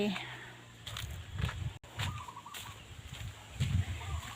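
Chickens cluck in repeated short bursts on an Isan-style mixed farm in Thailand, close by, with a person talking over them throughout.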